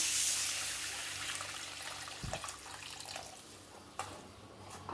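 Tamarind water splashes and pours into a pan of eggplant curry, a brief gush followed by light trickling and a couple of small clanks.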